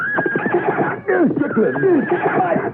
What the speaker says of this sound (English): The horse has gone wild!